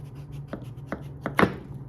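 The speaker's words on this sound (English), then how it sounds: "While Kassidy is chopping our watermelon" A knife chops through watermelon on a stable cutting surface during a nutrition demo, giving four sharp, evenly spaced cuts, the last one louder and fuller, close up over a low steady hum.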